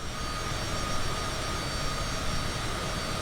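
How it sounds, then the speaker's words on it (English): Twin jet engines of a Cessna Citation CJ4 in a flight simulator, spooling up to a steady, loud, dense roar with a faint whine that holds continuously, no voices. "Let's advance the throttles and see what happens."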